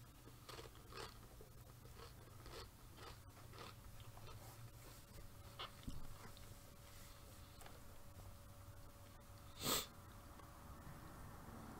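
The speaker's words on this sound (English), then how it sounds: "I know I said less sniffling" A person sniffles through the nose several times in short, quiet bursts over low background hum, with one sharper, louder sniff near the end.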